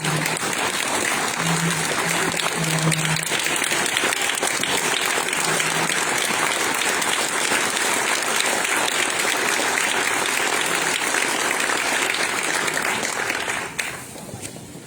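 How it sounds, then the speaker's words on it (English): A banquet crowd at a Hall of Fame induction gives a long standing ovation for the inductees, with dense, loud, continuous clapping that lasts over a dozen seconds before tapering off at the end. "I want you to please do another big round of applause for the inductees tonight."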